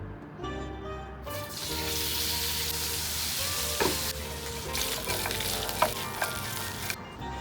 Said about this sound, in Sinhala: ඒ pan එකටම මම තෙල් ටිකක් ඇඩ් කරගන්නවා චිකන් ටික ෆ්‍රයි කරගන්න